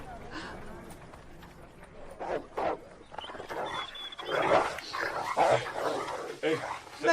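Dogs bark repeatedly in a radio drama scene, their loud, excited barks mixed with scuffling and running sounds.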